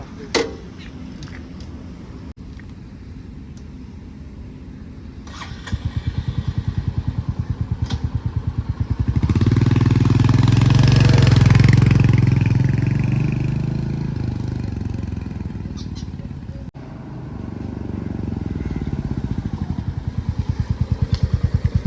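A Royal Enfield Hunter 350 motorcycle idles nearby with a steady low thumping beat, then revs up in a swelling roar that falls back to idle before climbing again, with some metallic clatter heard early on.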